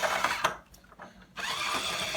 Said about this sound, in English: Put it inside and then use the drill again.